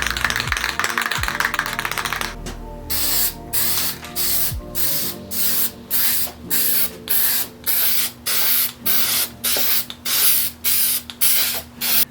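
An aerosol can sprays gloss black paint onto BMW E90 3-Series roof trim moulding in a regular series of short hissing bursts separated by brief pauses, preceded by a rattling shake of the can, loud and close.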